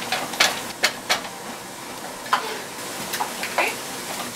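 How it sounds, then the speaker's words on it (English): Meat browning in a pan for a casserole, giving a light, uneven crackle with scattered sharp ticks and pops over a quiet background. "While the meat is browning"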